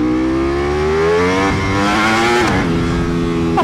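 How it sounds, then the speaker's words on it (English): Ducati Panigale V4R motorcycle revving hard at a night car meet, its loud engine climbing in pitch, dropping sharply after about two and a half seconds, then rising again. "Oh, what a fun rowdy bike."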